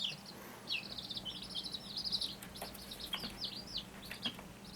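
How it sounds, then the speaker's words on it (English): Backyard homestead chickens in a coop, with a bird flying out: high chirps and calls recur throughout at a moderate distance over a steady low hum, and a short flutter is possible. "One of the birds is strong, flying out."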